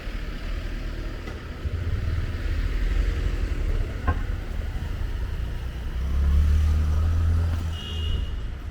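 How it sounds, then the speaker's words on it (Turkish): Cars and trucks sit in a jammed city street, giving a continuous low rumble of idling and creeping engines that swells louder near the end, with a faint high beep. "Her yerden araba çıkıyor. Çekim yapması da zor biraz buralarda. Sıkışmış trafik."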